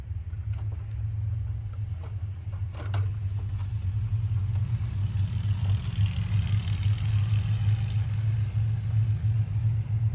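Steady low engine rumble of motorcycles passing close by, continuous and fairly loud with no talking.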